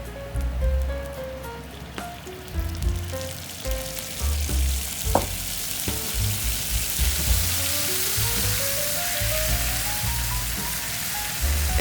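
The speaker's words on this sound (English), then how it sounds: "then I put in the minced garlic and fry them a little bit in low heat. Here I add some curcuma soy sauce." Minced garlic sizzles in a pan over low heat with soy sauce added, a steady crackling fry running throughout with light stirring and a soft background tune, no voices.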